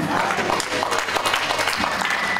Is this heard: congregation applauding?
yes